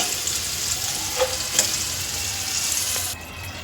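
Bitter gourd fries in oil in a pan, giving a continuous close hiss and crackle with a few light stirring taps, easing off slightly at the end.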